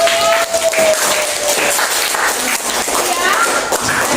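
Primary school pupils in a sixth-grade classroom clap together in a loud, close burst that carries on throughout, with a voice and classroom chatter mixed in.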